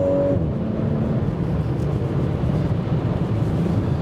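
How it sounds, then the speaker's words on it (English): An Audi S5 Coupé engine hums at a low, steady rumble under light throttle, heard from inside the car, moderately loud and even throughout, with no talking. "Every little touch on the throttle you can hear, and wow!"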